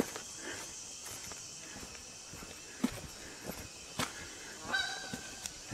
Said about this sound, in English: And that would be a Canadian goose there.